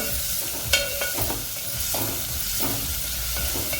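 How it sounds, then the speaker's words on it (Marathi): Finely chopped small onion sautéing over high flame in a pan, a steady close sizzle with a few stirring scrapes and knocks. "छोटा कांदा बारीक चिरून घेतलेला तो टाकूया आता हे आपण दोन मिनिटं चांगलं परतवून घेऊया"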